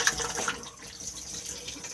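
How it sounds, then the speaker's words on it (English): Water rushes into the bowl of a cassette toilet in a 2021 Compass Casita 454 caravan, a steady close hissing splash lasting a couple of seconds, with no voices. "push to flush"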